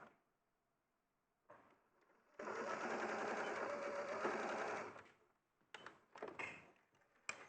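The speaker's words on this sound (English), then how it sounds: "I'll just bring that together and stitch up to the top of the arm." Sewing machine stitching a garment seam up to the top of the arm, a short start and then a steady loud whirring run of about two and a half seconds, followed by a few brief bursts and handling noises.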